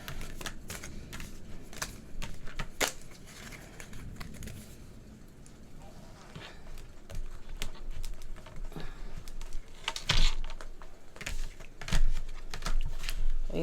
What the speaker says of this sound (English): Let me move some of these cards out the way.